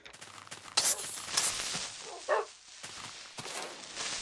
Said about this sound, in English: Dogs are spawning up. Dogs are teleporting up here.